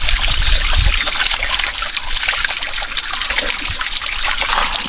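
Water trickles steadily from a forest spring, a continuous close splashing burble with no pauses.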